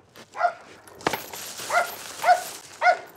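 A dog in a rural village in Hoengseong, Gangwon, barks four times at a steady pace, clear and fairly close, with a sharp knock between the first and second barks.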